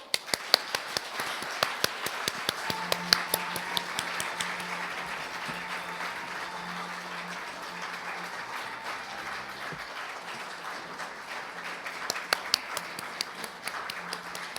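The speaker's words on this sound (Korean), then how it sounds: "여러분 큰 박수로 맞이해 주십시오." Applause from an audience at an agricultural award ceremony, welcoming the winners, heard as moderate, steady clapping in a hall with a few sharper claps standing out and faint background tones.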